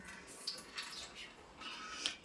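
Ghee is poured into a pan for Kerala-style ada pradhaman payasam, making faint, soft liquid trickles and light splashes in quiet short bursts.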